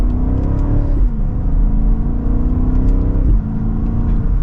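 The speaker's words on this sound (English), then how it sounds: "Hopefully you can hear that exhaust" A 2025 BMW X7 M60i SUV accelerates hard from second gear, its exhaust giving a loud, continuous rising engine drone with a brief dip at a gear change before climbing again.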